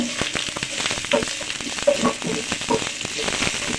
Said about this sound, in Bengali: এখন আমি দিয়ে দিচ্ছি গাজর কুচি। গাজরটা একটু ভালো করে নেড়ে ফেলে নেব।